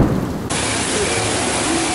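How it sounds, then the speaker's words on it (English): Heavy rain pours down in a dense, steady roar with low rumbling underneath, loud and continuous after a brief muffled start. "It's raining! It's pouring!"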